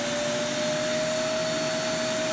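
A Roomba i6+ robot vacuum's dock empties the bin with a loud, steady whooshing suction roar and a constant whine, holding unchanged and close for the whole stretch.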